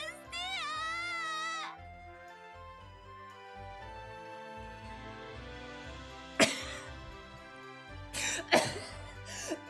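Coughing from a game character in Atelier Lulua, short harsh bursts that come twice near the end of the clip, over steady background music with no speech.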